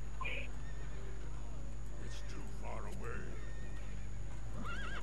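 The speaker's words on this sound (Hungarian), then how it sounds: "Hogy került ide öt ló?" Several horses neigh and whinny in a World of Warcraft game scene, shrill calls rising and falling at the start and again near the end, over a steady droning background with a voice speaking quietly.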